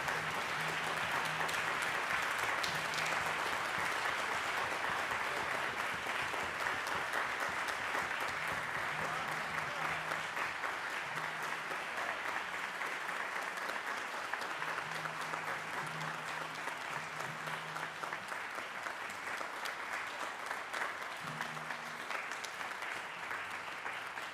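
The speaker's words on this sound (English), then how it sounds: "one more round of applause, not for me, but for these two wonderful men" A large audience gives two performers a sustained round of applause at an evening event: dense, steady clapping that fills the room for the whole stretch with no break.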